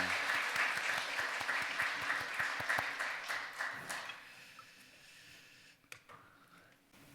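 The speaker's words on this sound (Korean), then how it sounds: "박수 올려드리겠습니다." Applause at a Sunday church service, a dense wash of many hands clapping that gradually thins out and fades toward the end.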